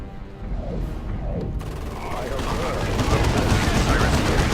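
Dense rattling gunfire and battle noise build from the Dawn of War II: Chaos Rising strategy game during a fight against orks. A voice is heard briefly at the start, then the shooting grows louder and more continuous.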